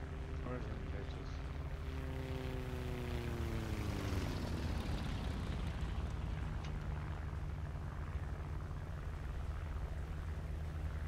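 Propeller aircraft engines drone loudly in a tank battle video game, one plane's pitch falling as it passes overhead, over a steady low rumble.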